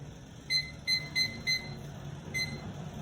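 A kitchen-style digital timer being set to five minutes gives a series of short, clear electronic beeps, four in quick succession and then one more after a pause, alone over faint room hum.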